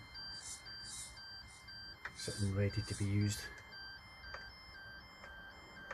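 Short electronic beeps from a model steam locomotive controller (Roundhouse Billy) repeat steadily in the background while a person speaks briefly in the middle.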